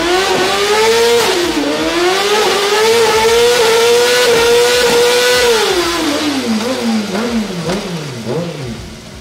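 Close, loud Honda CBR600 sport motorcycle engine revving up through the gears with the rear wheel spinning, pitch climbing and dipping with each shift, ending in quicker rev changes.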